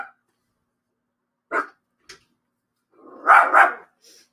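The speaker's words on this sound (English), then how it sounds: "there's going to be another wave of barking right now." A dog barks in separate bursts: a single bark, a short yip, then a louder double bark toward the end, with quiet gaps between them, heard indoors during a live home broadcast.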